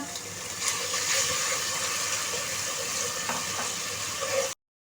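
Water is poured into a pan of potato and eggplant curry frying with crushed red chilli and salt, and it gives a loud, continuous sizzling hiss that runs steadily for about four and a half seconds and then stops abruptly.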